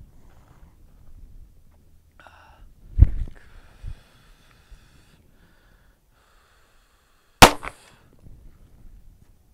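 Two sharp handgun shots fired with the non-dominant hand at a flinch training target, spaced several seconds apart, loud and close against quiet surroundings with faint breathing between.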